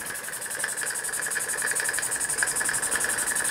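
A scratch-built steam engine runs quietly and smoothly, its steady, rapid pulsing beat continuing evenly throughout with a faint mechanical hum and no talking.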